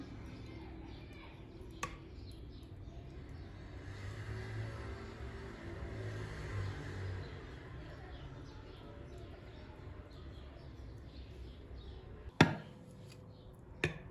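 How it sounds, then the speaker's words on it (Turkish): A kitchen food processor chops pieces of baked cake for decorating, giving a steady, fairly quiet motor whir that runs almost the whole time, with a couple of sharp knocks near the start and end. "Ben şu ayırdığım parçaları şimdi robottan çekerek üzerine süsleme yapacağım."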